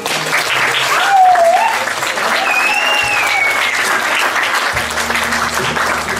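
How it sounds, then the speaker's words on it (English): Wedding guests break into sustained applause, a dense, loud wash of clapping that fills the room throughout, with faint background voices underneath. "Please join me for a round of applause to celebrate their new life together as Violet and Travis Roberts."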